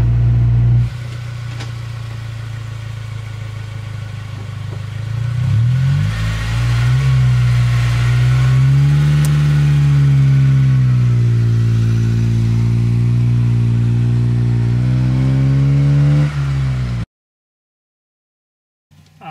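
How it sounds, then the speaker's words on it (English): A manual car on a hill idles, then its engine rises in a steady, loud revving drone as it pulls away and accelerates, before cutting to silence near the end. "the car starts to move, release the handbrake, the car drives off"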